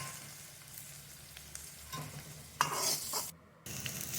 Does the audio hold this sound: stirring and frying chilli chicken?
yes